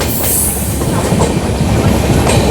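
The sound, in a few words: Kanchankanya Express train passing Sevoke railway station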